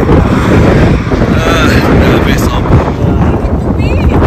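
Strong wind roars against the microphone on a highway, a loud steady broadband rush filling the whole stretch, with a person speaking briefly over it.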